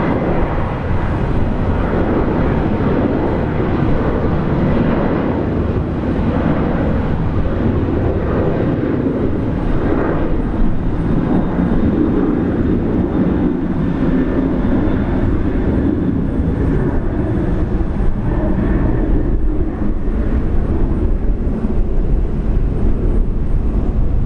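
A Virgin Australia airliner rolls down the runway on its takeoff run at Brisbane Airport, bound for Perth, giving a loud, steady engine roar with broad rumble that holds throughout without any talk.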